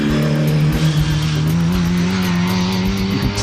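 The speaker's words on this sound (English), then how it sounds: "that 1460 engine really sounds the part." A Mini fitted with a 1460 A-series engine runs loud and steady, its deep, rough note droning continuously and rising slightly as it revs, with no talk over it.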